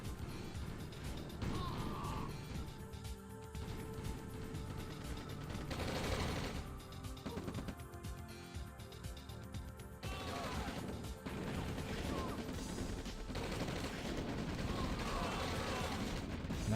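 Yak aircraft strafing in the OpenRA real-time strategy game Red Alert, a dense, continuous wash of rapid gunfire, crashes and explosions, steady and loud throughout with talk mixed underneath.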